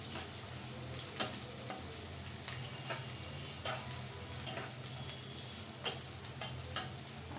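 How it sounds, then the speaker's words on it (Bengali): Chopped onion frying in a pan for homemade noodles, a steady close sizzle with scattered crackles and occasional stirring clicks of a utensil, no talking. "আমি এখন খুব সুন্দর করে এটা ভেজে নেব।"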